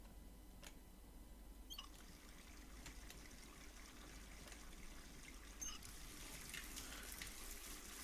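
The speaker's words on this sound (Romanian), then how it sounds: "Dăm drumul la robinet." Thin, steady trickle of water running from a tap in Hitman 3, soft and continuous, with a few faint clicks over it.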